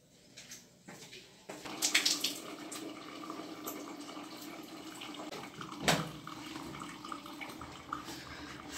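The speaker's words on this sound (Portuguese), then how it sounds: "Agora eu vou lavar." Running water from a tap rinses type 4ab hair at home, a steady, moderately close rush and splatter. It starts with softer dripping and grows fuller, with occasional louder splashes and no clear talking.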